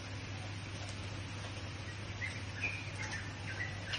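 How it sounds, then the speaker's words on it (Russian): Birds sing outdoors after a rain and thunderstorm, giving light chirps and short tweets scattered over a steady low hum and quiet background, fairly faint and somewhat distant. "Слышите, как птичка поют?"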